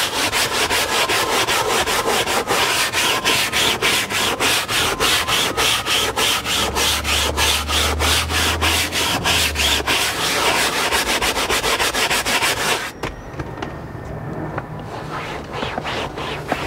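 A scrub brush rubs car seat upholstery in fast, repeated strokes, a loud, close, continuous scratchy brushing that runs steadily and then softens briefly near the end.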